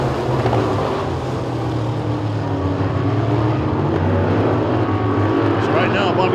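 Modified race cars roar continuously around Talladega Short Track, a steady loud drone with cars passing, mixed with crowd or announcer chatter in the background.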